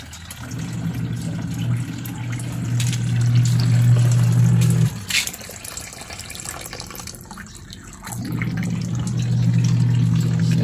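Water runs steadily with a low rushing hiss, cuts off around the midpoint for a few seconds, then starts flowing again.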